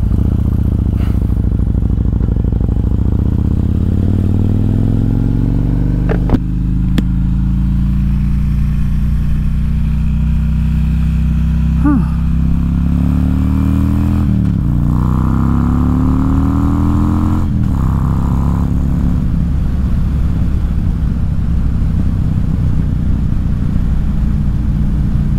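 Harley-Davidson Road King motorcycle riding along, its engine droning loud and steady throughout with rising and falling pitch as it accelerates and shifts, plus occasional clatter and wind rumble.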